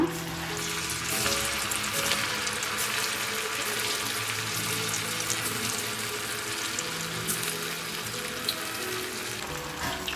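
Small puffed rice (churumuri) balls fry in hot oil over a low to medium flame, producing a continuous close bubbling sizzle that holds steady throughout.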